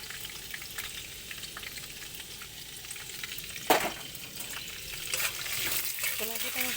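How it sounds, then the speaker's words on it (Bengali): Soaked chickpeas stir-fried in oil with green chilies give a quiet, continuous sizzle with occasional stirring scrapes and one sharp clatter midway, the frying growing slightly louder near the end. "ছোলাটা কাঁচা লঙ্কা দিয়ে তেলে নেড়ে"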